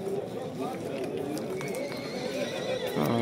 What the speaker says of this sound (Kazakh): мал базарында, жылкы базарында